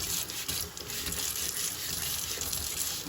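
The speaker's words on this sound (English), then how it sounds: "you run under the water and you just scrub it" Water from a kitchen tap runs steadily close by as a pan is scrubbed under it, with a continuous splashing gush and no talking.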